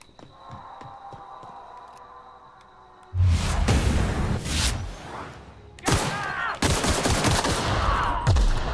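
Assault rifle fire in The Outer Worlds video game, loud rapid bursts that start after a quiet stretch of low ambient hum, stop briefly and then resume, close and dominant.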